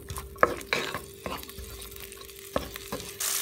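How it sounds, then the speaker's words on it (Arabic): Sliced onion cooks in vegetable oil in a pot for chicken fajitas, giving a low, steady sizzle with a few sharp clinks and scrapes of a utensil at intervals, close and fairly quiet. "هلأ بقلي البصلة"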